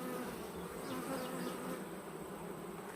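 Honey bees buzz in a dense, continuous hum from an opened hive box packed with comb, a close, steady swarm sound with no voices.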